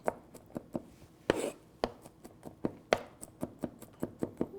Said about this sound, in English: So I'm almost done peeling these fava beans out of the shell, and what we're going to do is we're going to chop them up